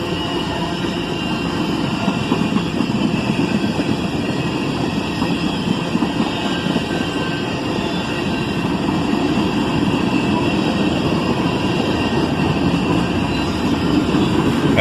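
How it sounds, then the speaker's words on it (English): A long Norfolk Southern freight train rolls steadily past with a constant rumbling roar of boxcars and covered hoppers, loud and close, continuing unbroken without a gap. "See what I mean about the size of this train?"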